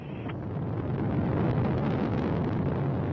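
Soyuz rocket first and second stage thrusters roaring during launch, a dense continuous low rumble with wind-like buffeting that holds steady and loud throughout.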